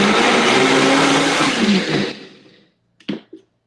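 Countertop blender grinding frozen keto low-carb mocha, a loud dense roar running steadily for about two seconds before winding down, followed by two short clunks.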